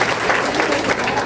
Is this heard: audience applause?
yes